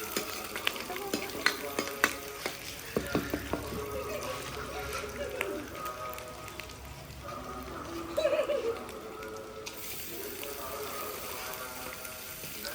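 Onion, garlic, ginger and cumin frying in hot oil in a home kitchen, a steady sizzle with scraping stirs and clinks, while voices talk over it.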